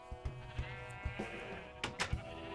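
Sheep in the video game Minecraft give several short bleats in quick succession, clear and close with brief pauses between them.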